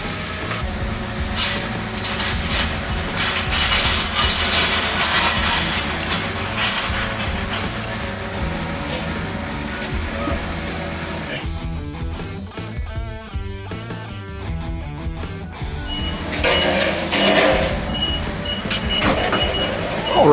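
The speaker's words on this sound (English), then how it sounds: "Kenny's grabbing the forklift and we're gonna toss this thing on the chassis in one day" A forklift runs in a shop while lifting a 1930 Model-A body onto a chassis, its motor whining and droning steadily at close range for a long stretch, with rattling and shifting tones midway and no voices.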